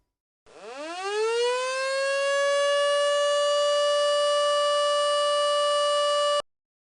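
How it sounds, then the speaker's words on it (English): A civil defense emergency warning siren, sounding as a test, winds up from a low growl to a loud, steady wail, holds for several seconds, then cuts off abruptly. "we're going to let you hear what that siren would sound like"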